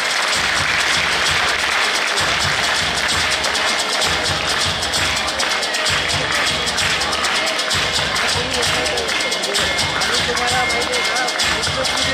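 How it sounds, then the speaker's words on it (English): Loud crowd applause with some cheering at a school dance event honouring dance teachers, steady dense clapping over a rhythmic low thumping beat for about twelve seconds. "Please give them a big round of applause."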